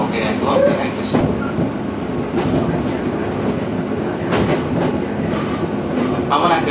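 Inside a Fujikyu Line 211 series train running from Kawaguchiko toward Takao near Mt. Fuji, a loud continuous rumble of wheels and motors fills the cabin, with rhythmic rail clacks and brief squeals throughout.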